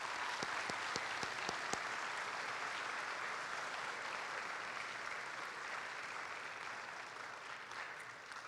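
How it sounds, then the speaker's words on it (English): A crowd at a high school commencement ceremony gives a long round of applause, a thick, continuous roar of clapping with a few sharp individual claps near the start, sustained at an even level throughout. "Graduates, I think our families deserve an incredible round of applause"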